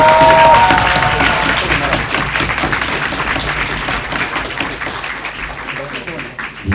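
An audience at a high school debate championship final at Saaremaa Gymnasium, Estonia, gives loud, sustained applause. The dense clapping fills the room from start to finish, with a few brief tonal sounds near the beginning.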